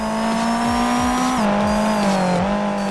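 A car in the Street Legal Racing Redline driving game pulls away through a city, its engine note droning steadily and loudly, dipping in pitch at gear changes, with no voices.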